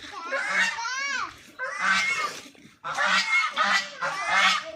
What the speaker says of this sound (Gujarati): આ બતકું.